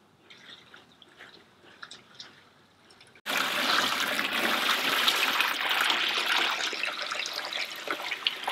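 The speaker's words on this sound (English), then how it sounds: "Filling up a big old water bucket for them to get in." Water pours steadily into a large bucket set out for Berkshire pigs on a homestead, a loud continuous gushing rush that starts abruptly after a few seconds of quiet outdoor ambience with faint drips.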